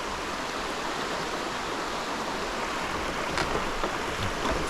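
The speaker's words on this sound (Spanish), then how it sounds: "Este es el río. Ese es el sonido que se siente cuando uno viene por aquí caminando." A river rushing near the Salto de Javira waterfall in Trinidad, a steady, dense broadband wash of flowing water heard close and continuous, with no voices over it.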